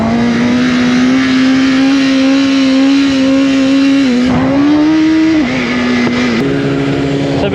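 A BMW S1000RR race motorcycle engine holds a loud, steady high-revving howl while doing a wheelie, with its pitch dipping and rising near the end as the throttle shifts, heard up close with no talk.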